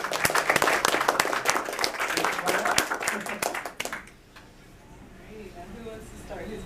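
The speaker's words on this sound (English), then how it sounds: "Let's start with a big round of applause." A crowd at a Crypticon horror convention panel in Kansas City claps for about four seconds, close and lively. The applause then fades out and a quieter stretch follows with people talking.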